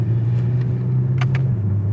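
A Porsche Boxster engine with PDK transmission rumbles low and steady from inside the cabin on a canyon drive, with a few faint clicks and taps over the drone.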